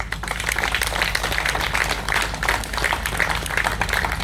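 Sustained audience applause at a Beethoven concert, a dense, steady wash of many hands clapping that holds evenly throughout with no voices on top.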